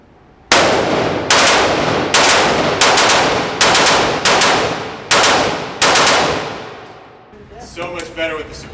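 Gunfire with a suppressor fitted: eight loud, evenly spaced shots, each with a short echoing tail, ending in a brief burst of muffled mechanical noise.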